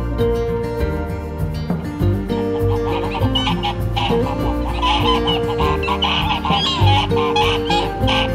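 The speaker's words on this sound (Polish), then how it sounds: "Co za gęsi." Geese honk and cackle on a mountain trail in the Beskid Żywiecki, a loud close flock calling repeatedly in overlapping harsh honks and clucks throughout.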